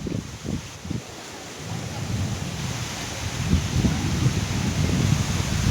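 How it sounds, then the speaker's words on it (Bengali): Wind blows steadily and gusts harder toward the end, a broad rushing roar with low rumbles, outdoors as rain approaches while pigeons are being fed. "এবার হাওয়া দিয়ে দিয়েছে"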